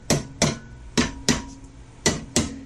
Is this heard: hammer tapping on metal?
yes